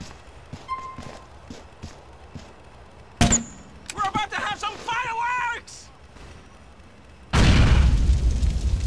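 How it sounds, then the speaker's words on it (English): A grenade explosion in Grand Theft Auto: Episodes from Liberty City, thrown through a window, bursts loud and broadband near the end and follows game character voices, footsteps and a sharp earlier pop. "take one of these grenades and put it through their window"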